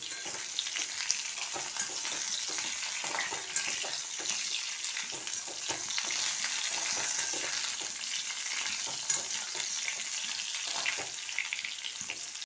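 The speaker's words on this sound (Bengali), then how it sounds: "আমি একটা বেগুন আর একটা আলু নিয়েছি, এটাকে আমি আগে ভালো করে ভাজবো" Eggplant and potato pieces frying in hot oil, a steady dense sizzle with crackling pops running throughout, close and continuous with no voices.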